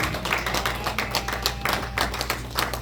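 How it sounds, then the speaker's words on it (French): A church congregation claps and applauds, a dense, fast patter of hands that holds steady throughout with no voices standing out. "On acclame pour notre Seigneur Jésus."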